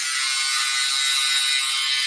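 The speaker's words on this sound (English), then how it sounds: "It's a sweater shaver." An electric sweater shaver, a small handheld fabric defuzzer used on clothing, runs in a steady, continuous high-pitched buzz that stays close and even for the whole stretch, with no talking over it.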